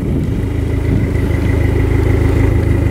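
A 2005 Dodge SRT-4's engine runs loud and close, holding a steady, throbbing rev as the gas is pushed.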